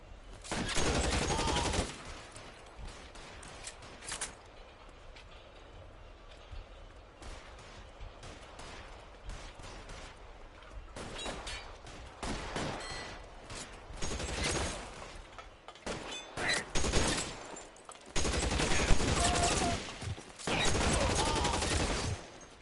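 Gunfight in the video game L.A. Noire: repeated loud bursts of gunfire in irregular volleys, some rapid and clustered, separated by quieter stretches of background ambience, with occasional voices in between.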